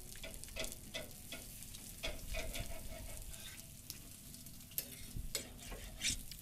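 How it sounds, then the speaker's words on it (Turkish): Kokoreç sizzling and crackling on a grill at a street food stall in Kuzuguncuk, Istanbul, a close, steady frying hiss with sharp pops and bursts of spatter throughout. "Izgaramızın üzerine koyduk. Dostlar böyle cızır cızır sesler geliyor."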